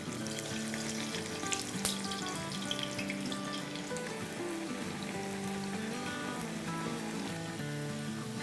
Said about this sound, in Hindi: पैन में ये फ्राइज़ डालेंगे।